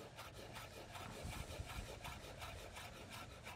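Knife coarsely chopping fennel on a board for shrimp and halibut ceviche, a steady run of dull, close thuds and scraping rasps over a few seconds.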